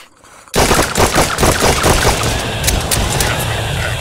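Rapid gunfire with fire bullets erupts loudly after a brief quiet moment in the video game Island 359, a dense burst of shots that gradually thins into lingering noise.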